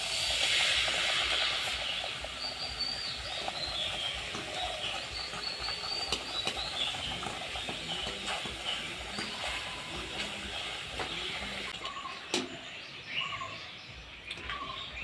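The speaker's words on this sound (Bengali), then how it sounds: "এখন আমি এই লুচিটা ভেজে নেব।" A luchi flatbread deep-fries in hot oil in a wok, a steady crackling sizzle with fine popping that holds throughout, briefly dipping near the end.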